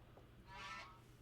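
A single faint, short goose honk sound effect from the Magic: The Gathering video game, heard alone over a low background hum.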